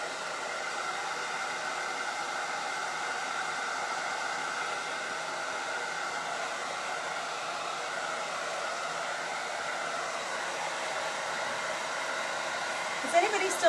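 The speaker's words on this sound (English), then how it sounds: "I better take the hairdryer to it quick." A hair dryer blows steadily at close range, a constant airy whir that holds unchanged throughout, ending with a brief bump.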